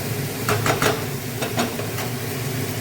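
Steady sizzling of spice paste with Kashmiri chilli in a hot pan, with a few quick scraping stirs, close by and continuous, no voices.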